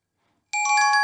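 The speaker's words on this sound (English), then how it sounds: "you will hear an alert sound that notifies you whenever a new booking has come in" A booking system chimes to signal a new restaurant reservation: a bright, sudden electronic ringtone with layered ringing tones that starts halfway through and sustains loudly to the end, with no talking.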